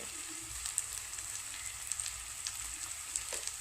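Chili, turmeric and coriander powders roast in oil for a toddy-shop style Kerala fish head curry, giving a steady, fairly quiet sizzle with faint scrapes of stirring throughout.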